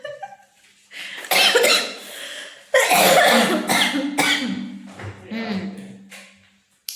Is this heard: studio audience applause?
no